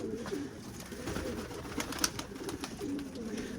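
Pigeons in a loft coo softly in low, repeated calls against a background of faint rustling and scattered small knocks.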